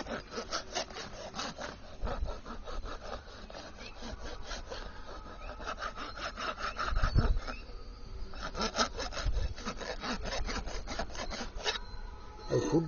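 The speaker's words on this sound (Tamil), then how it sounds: "அந்த கூர் காலில் போட்டு கிழிச்சிடாம இருக்கிறதுக்காக தேய்ச்சி விடுங்க" Steady rasping strokes of a file on a pony's sharp hoof, repeated back and forth in a continuous rhythm, close and fairly loud, with no talk over it.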